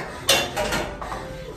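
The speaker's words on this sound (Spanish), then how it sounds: "Yo te daría un golpe en la sartén." A single sharp metallic clang as a frying pan is struck, followed by a few quieter clinks and rattles close by.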